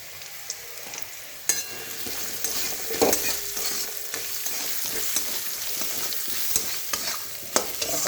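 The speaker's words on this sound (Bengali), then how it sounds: "পেঁয়াজগুলো লাল হয়ে এসছে হালকা, তেলের মধ্যে একটু হলুদ দিয়ে দিচ্ছি।" Sliced onions frying in oil in a pan as a little turmeric is added, a steady soft sizzle with scraping stir strokes and occasional taps of the spoon, close and alone.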